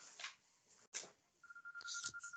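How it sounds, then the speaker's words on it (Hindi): A phone rings during a home chemistry lesson: a faint, steady electronic ring tone starts partway through and holds alongside soft rustling background noise. "इला मैम का फोन आ रहा है।"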